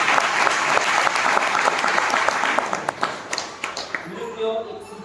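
A church congregation breaks into loud, dense applause for those who contributed, a thick roar of clapping that thins into scattered individual claps and a few voices near the end.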